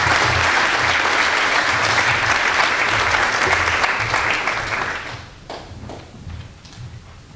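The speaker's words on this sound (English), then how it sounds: "Give these students a round of applause." An audience at a business school recognition and scholarship reception gives students a round of applause, dense loud clapping that holds steady for about five seconds, then tapers off into scattered claps and room noise.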